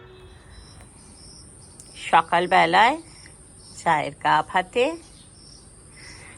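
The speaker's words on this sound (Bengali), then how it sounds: "রাতের অন্ধকারে ঝিঁঝি পোকার ডাক তোমরাও কি শুনতে পারলে?" Crickets in a rural village near Kolkata give a steady, thin, high chirring that runs through the whole stretch, sitting faintly beneath two bursts of a person talking.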